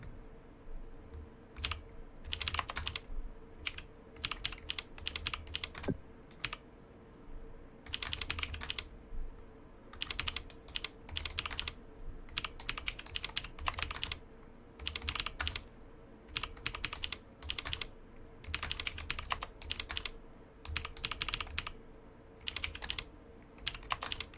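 Typing on a computer keyboard: bursts of rapid, close key clicks separated by short pauses, continuing steadily with no voices.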